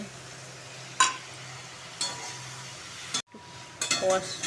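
Ground spice paste fries in a pan for a fish dish, a soft steady sizzle broken by a few spoon clinks and stirring scrapes close by.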